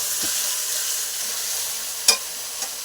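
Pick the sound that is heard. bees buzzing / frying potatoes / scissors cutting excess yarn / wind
frying potatoes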